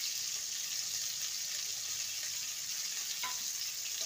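Pieces of pointed gourd fry in a pan with crushed garam masala, giving a steady close sizzle and hiss throughout, with a faint scrape of stirring near the end.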